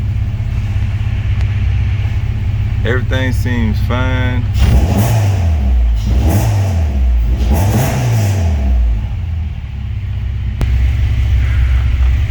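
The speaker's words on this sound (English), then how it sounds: "the car's warming up." A Honda Civic with an H2B engine warms up near the mic, idling steadily and then blipped through three rising-and-falling revs, while someone talks briefly over the low engine rumble.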